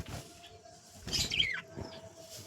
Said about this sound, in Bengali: আর এখানে হচ্ছে আমাদের 2 জোড়া করে বদ্রি আমি রেখে দিয়েছি।